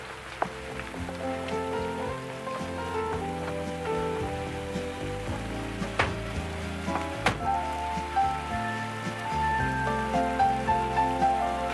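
Steady rain falls through the whole stretch under prominent music, with a dense patter that stays constant.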